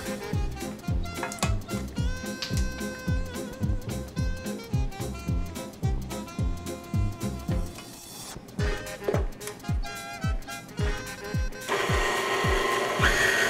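Rhythmic mechanical whirring of a mixer blending chocolate chip cookie dough brownie batter with milk and vanilla, steady and close with regular pulsing strokes, ending in a louder continuous grinding whir.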